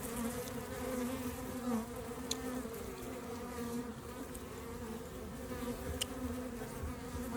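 A honeybee swarm buzzes continuously during a swarm capture outdoors, a dense droning hum of many bees with occasional individual bees passing close by.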